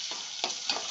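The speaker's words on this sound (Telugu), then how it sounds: "ఎండుమిరపకాయలు కూడా వేసుకొని వేపుకోవాలి బాగా." Dried red chillies fry briefly in hot oil, a short crackling sizzle with two or three quick stirring bursts, close and fairly loud.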